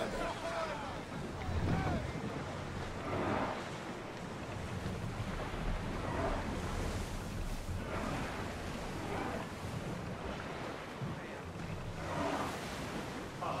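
A sailing ship rolls across the open sea in Assassin's Creed Odyssey, with steady rushing wind, surging waves and creaking hull noise, and voices speaking over it.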